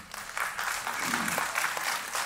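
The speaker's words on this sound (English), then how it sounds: "A huge round of applause for him." Audience applause at a panel discussion on the next wave of electronics, steady dense clapping filling the room, with a brief murmur of voices mixed in.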